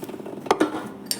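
Leftover macaroni with béchamel being spooned on top in a baking dish: two soft scraping clinks of a metal spoon against the dish close by, then a lighter tap, with no talking.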